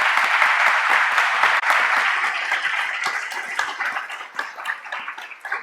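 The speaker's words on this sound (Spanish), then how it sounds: "Yo le pedí un aplauso a Flavio" An audience applauds an event organizer at a university global dialogue talk, loud dense clapping at first that gradually thins into scattered individual claps as it dies down.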